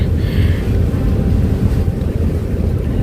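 Strong wind and waves at sea, heard from aboard a boat on an overcast morning, make a loud, steady rush and roar with buffeting wind noise throughout and no talking.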